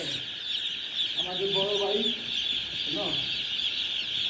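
Broiler chickens in a farm shed holding about 4,200 birds give a few short, close clucks over a steady, bright, high-pitched flock din.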